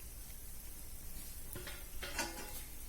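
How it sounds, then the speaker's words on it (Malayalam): Semolina roasting in ghee in a pan makes a soft, continuous sizzle, with a few gentle scraping strokes of a spoon near the end and no voices. "ഇനി നമ്മളതൊന്ന് നന്നായി വറുത്തെടുക്കാം."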